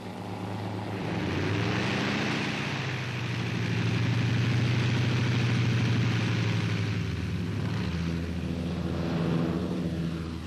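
Several transport planes of a World War II D-Day airlift take off, their propeller engines making a steady, loud droning roar that swells and holds throughout with no voices.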